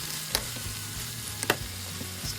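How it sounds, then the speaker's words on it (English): Pork and string beans stir-fry in a pan with a steady sizzle and low bubbling, with a few sharp scrapes and clinks of a spatula against the pan; no talking. "and then you have to stir it and add the string beans."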